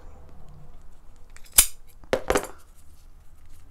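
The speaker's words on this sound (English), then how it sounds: "Just be careful not to cut your threads." Scissors snipping upholstery button twine, giving two sharp close cuts about half a second apart against a quiet background, with no talking.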